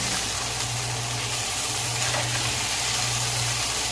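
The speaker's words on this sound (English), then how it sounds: "We're just going to kind of flip our mixture over here a little bit so we can get those other side of those potatoes cooked up." Potatoes sizzling in a pan for hash, a loud, steady hiss of frying close up with a low hum of a range fan or burner underneath, continuous with no talk.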